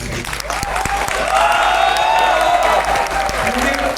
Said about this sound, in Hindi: मैं चाहता हूँ कि आप लोग अपने लिए एक बार जोर से तालियां बजाएं।